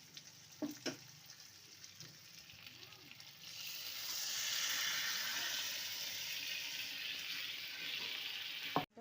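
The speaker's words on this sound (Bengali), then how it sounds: "মশলার সাথে মাছের মাথাটা ভালো মতো কষে নেওয়া হয়ে গেছে এখন আমি ডালটা অ্যাড করছি" Mung dal goes into a pan of fried masala and rohu fish head, giving a few soft splashes and clinks followed by a steady, moderately loud sizzle and frying hiss that carries on to the end.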